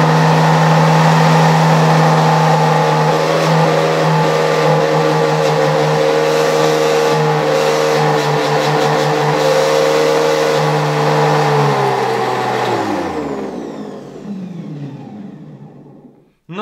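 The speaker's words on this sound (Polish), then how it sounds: "Tak, i włączmy odkurzacz." A 1978 Ural vacuum cleaner with worn motor bearings runs loudly with a steady whining drone and a strong low hum, then winds down as it is switched off near the end.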